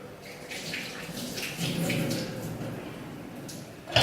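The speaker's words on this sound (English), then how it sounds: "I'm going to give my hand a wash." Hands washed under a running tap, a steady close rush of water that swells for a moment midway and ends with a short clatter.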